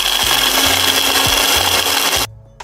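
A dry blender grinds sorrel (sobolo) drink ingredients with a loud, close, steady whirring motor and gritty rattling, then cuts off abruptly near the end.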